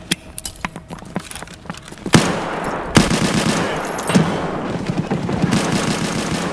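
Gunfire from computer-controlled bots in the shooter game Escape from Tarkov: scattered sharp single shots at first, then a sudden loud burst and sustained rapid firing with repeated cracks throughout.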